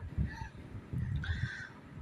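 Free-range desi country chickens foraging on grass outdoors, giving a few short, close clucking calls over soft scratching and pecking thumps.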